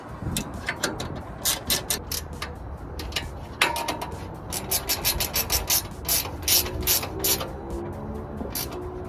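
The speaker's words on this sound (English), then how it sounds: "Use your 7/16 wrench," Repeated ratcheting clicks from a 7/16 wrench tightening 1/4-20 nuts on a roof rack for a Mercedes Sprinter van, coming in quick bursts of close, crisp clatter with brief pauses between.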